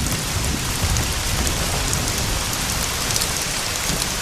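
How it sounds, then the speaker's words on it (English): Heavy rain pours steadily in the Mala Fatra mountains of Slovakia, a dense, loud, unbroken hiss of drops with no voices. "it's raining relentlessly for days"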